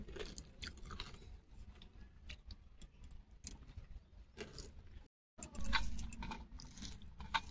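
Someone chews a crunchy shrimp-stuffed pumpkin fry close to the mic, with irregular crisp bites and crackles separated by brief pauses and no voices.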